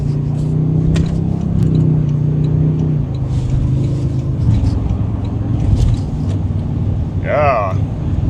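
A 2024 Toyota Sequoia TRD Pro accelerates mildly onto the interstate, with a steady engine drone and road noise heard from inside the cabin, loud and continuous, while people talk over it.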